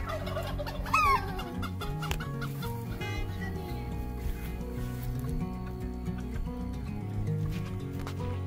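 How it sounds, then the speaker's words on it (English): A rooster crows loudly and close by at a farm, a single strained call near the start, with other fowl clucking and scattered farmyard noise continuing throughout. "The rooster."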